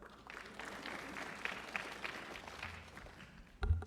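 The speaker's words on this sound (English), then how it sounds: "Yes, you can applaud that." An audience at a union's 50th anniversary celebration breaks into applause, a fairly faint, steady clapping from a crowd heard at a distance, lasting a few seconds.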